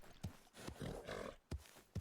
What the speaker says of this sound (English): It sounds like my horse is hopping on one foot.